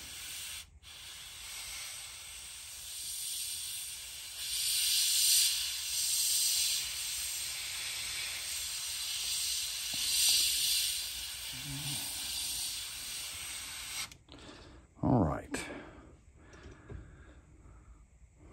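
An airbrush or spray gun hisses in a long, steady burst while painting a fishing lure, then stops; a few clicks and handling noises follow near the end.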